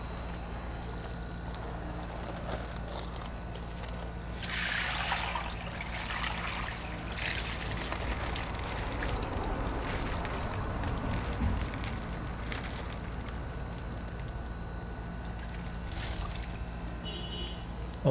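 Water drains through a handheld fish net while feeder fish are being treated, a steady rushing trickle that swells in the middle and continues evenly, fairly close.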